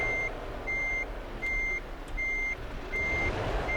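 A truck's reversing alarm in Euro Truck Simulator 2 sounds five evenly spaced electronic beeps over a low engine rumble, clear and steady with no talking.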